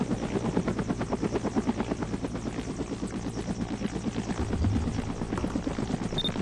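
A helicopter in the Roblox video game runs steadily throughout, its rotor chop a fast, even pulse over a constant engine drone, loud and close with no talking.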